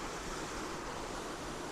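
A waterfall pours into a plunge pool outdoors, heard as a dense, unbroken roar of rushing water that holds steady throughout.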